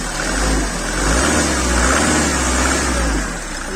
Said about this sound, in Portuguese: Esse é o barulho do motor a diesel saudável.